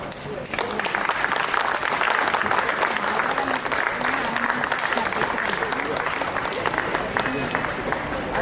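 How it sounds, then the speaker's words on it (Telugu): An audience at a Vinayaka Chavithi anniversary festival claps in sustained, dense applause that fills the space, with voices audible beneath the clapping. "చప్పట్లో"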